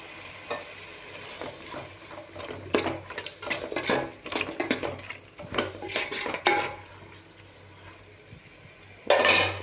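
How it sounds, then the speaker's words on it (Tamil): A spoon clinks and scrapes around a bowl as curd is mixed into chicken for a Sunday chicken biryani, in busy, irregular strokes up close, ending in a louder clatter. "கொஞ்சமாக தயிர் மிக்ஸ் பண்ணிக்கலாம்."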